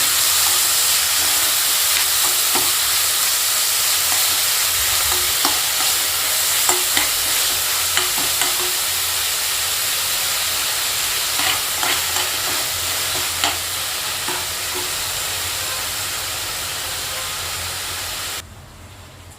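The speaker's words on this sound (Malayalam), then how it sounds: "വറ്റൽമുളക് ഇട്ട് കഴിഞ്ഞാൽ പിന്നെ ഇഞ്ചി വെളുത്തുള്ളി കൂട്ടാനിട്ട് നല്ലപോലെ മിക്സ് ചെയ്യും" Dried chillies with ginger and garlic stir-fried for achar in a pan, a steady loud sizzle and hiss with faint scraping stirs throughout, alone without voices, cutting off near the end.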